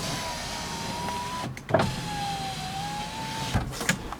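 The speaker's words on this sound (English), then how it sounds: "Now, of course, the Crown Vics have power windows." The rear power window of a Ford Crown Victoria runs on its electric motor with a steady whine, halts with a clunk, then runs again and ends with another soft thump, close up and quiet, with no talking.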